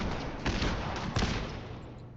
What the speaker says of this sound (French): Arrêtez les coups de feu, s'il vous plaît.